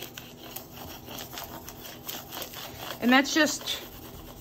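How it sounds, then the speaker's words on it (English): A vinyl transfer being rubbed and burnished onto a canvas Christmas sign, with steady scratchy rubbing strokes up close and a brief louder burst of friction near the end, partly under a speaking voice. "we're gonna burnish it again."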